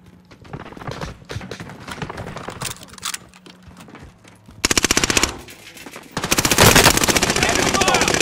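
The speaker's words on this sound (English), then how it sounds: "Enemy fire nearby." Bursts of automatic STG-44 rifle fire in Call of Duty: Modern Warfare come as rapid, loud, rattling volleys. Quieter scattered shots and footsteps come first, then longer heavy bursts. Brief game voice callouts are heard between the shots.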